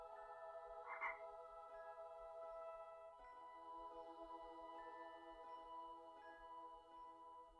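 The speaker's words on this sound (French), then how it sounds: "Neville Londubat te regarde avec son crapaud à la main." Low, droning croaks from a toad or frog pulse steadily in the background, faint and continuous, with one slightly louder croak near the start.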